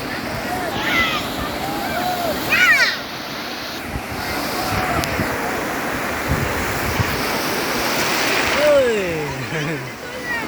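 Sea waves rush and break on the shore in a continuous roaring wash, with voices calling out over the surf.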